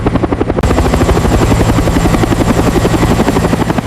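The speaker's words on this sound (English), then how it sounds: "The Black Hawk rises gently into the air during its first hover test." A restored Black Hawk helicopter's rotor thumps in a fast, steady rhythm, loud and close, with a constant engine whine as it hovers.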